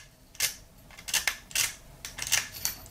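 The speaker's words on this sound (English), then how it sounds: "this chain and the keys make a really good sound" Metal keys and a chain on a fidget toy clicking and jingling in about six short, sharp metallic bursts with brief gaps between them, close up and fairly loud, with no talking.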